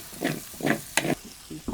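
Pork roast being stirred in a frying pan gives several distinct scraping strokes over a soft sizzle. The strokes land roughly every half second and sound close and fairly loud.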